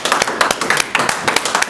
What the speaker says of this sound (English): let's give an extra round of applause for Sister Nizam.